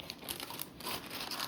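Long sheet of parchment paper crinkling and rustling as it is handled and laid onto an oiled baking pan, a close, brief burst of papery crackle.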